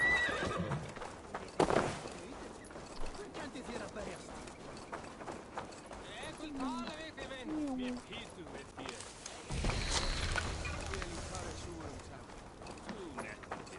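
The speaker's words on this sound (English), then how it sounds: "Didn't realize we were taking horses" Video game horses (Assassin's Creed Valhalla) whinny and snort over a steady clatter of hooves, with a loud burst of activity near the end and voices underneath.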